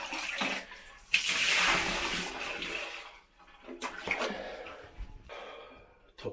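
Water from a scoop gushes into a squat toilet on a Himalayan trek toward Gokyo Ri, a loud splashing pour lasting a couple of seconds, followed by smaller splashes and trickles nearby.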